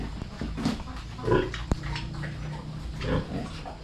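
Pigs kept on a farm grunt and snort in short bursts near the microphone, with one sharp knock partway through and steady farmyard background noise.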